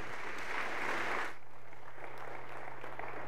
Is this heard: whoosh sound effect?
no